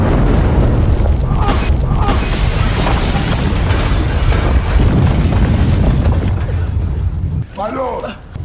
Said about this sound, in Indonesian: Lab rahasianya meledak.